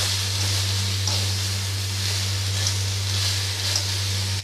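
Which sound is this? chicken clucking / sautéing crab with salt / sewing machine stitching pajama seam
sautéing crab with salt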